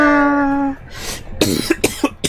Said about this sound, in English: I guess falling induces coughing.